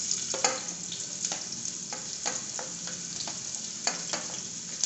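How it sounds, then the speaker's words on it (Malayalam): Onions sizzle in two tablespoons of hot oil for a chicken rasam, a dense close-up frying hiss broken by regular stirring scrapes and clicks, with no voices. "എണ്ണ ചൂടായിട്ടുണ്ട് അപ്പം അതിലേക്ക് നമുക്ക് ആദ്യം ഉള്ളി ഇട്ട് കൊടുക്കാം"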